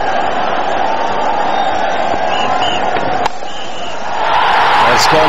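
A cricket stadium crowd at a 2006 Bangladesh vs Sri Lanka ODI roars for a Bangladesh boundary, a broad continuous wash of cheering beneath a commentator's voice that swells louder near the end.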